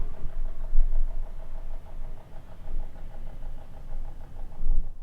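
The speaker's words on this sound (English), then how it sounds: "That has to be a car" A car engine runs nearby, a steady mid-pitched rumble with faint periodic ticking that swells and fades slightly over about five seconds, heard alone without voices.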